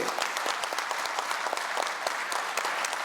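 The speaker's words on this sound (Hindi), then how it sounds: "तालियां जरा ऐसी हो" Audience applause at a lifetime achievement award ceremony, a steady wash of many hands clapping with distinct sharp claps standing out, fairly close and continuous throughout.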